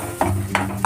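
Masala paste being stirred and fried in oil in a pan: soft scraping stirs and a light sizzle in short, close strokes.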